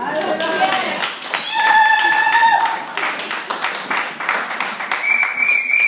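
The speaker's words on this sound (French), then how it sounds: "Il faut applaudir nous quand même." A church congregation applauds during a service, with dense clapping steady throughout, mixed with voices and a few tonal shouts or calls among the crowd.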